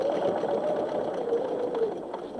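A quilting sewing machine runs steadily for a couple of seconds, its motor hum and rapid stitching close and continuous as it sews fabric.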